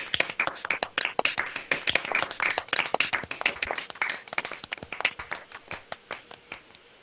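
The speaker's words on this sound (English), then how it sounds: "I warmly welcome you to unmute yourselves and clap and congratulate" Graduates on an online video call unmute and clap together for a 2021 geography and planning graduation, producing dense, uneven hand clapping from many participants that is close and continuous with no talking.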